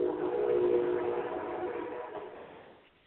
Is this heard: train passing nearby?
yes